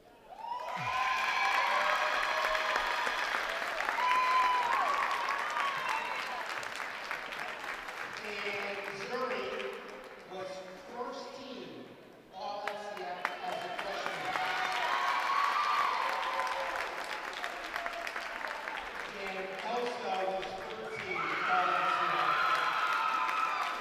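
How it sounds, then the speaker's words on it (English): Crowd applause with cheering and whoops fills a gym at a girls' freshman basketball all-star game, sustained and loud through two long waves with a brief dip between them. "everybody give them a round of applause"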